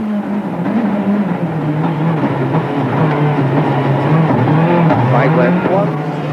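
A rally car from the 2003 Monte Carlo Rally on snow-studded tires drives a stage over a mountain pass summit, its engine droning loudly and steadily throughout with shifting pitch, under a voice-over.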